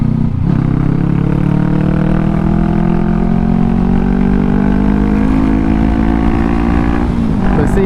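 A 2020 Honda CBR500R motorcycle with a full exhaust drones loudly and steadily at close range, its engine note rising gradually as it accelerates, then dipping briefly near the end.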